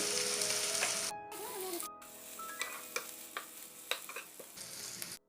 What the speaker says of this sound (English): Add 1 teaspoon soya sauce and mix it well.